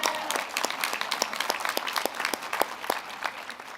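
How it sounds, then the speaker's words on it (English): A small group claps steadily for the faculty at a college commencement ceremony, with distinct individual claps audible, moderately close. "You can applaud the faculty."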